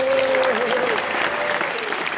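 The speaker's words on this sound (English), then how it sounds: "so give him an applause." Applause breaks out from a convention audience, brisk clapping heard together with a voice talking and a held tone that fades early on.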